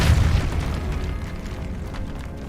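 A Depulso spell cast in the Hogwarts Legacy video game lands as a loud, deep booming burst that fades over a couple of seconds. No one speaks.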